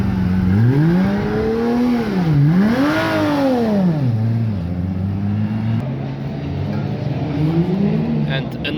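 A Porsche 991 Mark II Cup race car runs on test, its engine revving up and down in pronounced swells before settling into a lower drone, loud and close, with talking over it.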